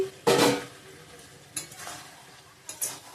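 Fried potatoes, cauliflower, drumsticks and pointed gourd being tossed into spiced oil and stirred in a pan, three separate bursts of scraping and sizzle with quieter gaps between them.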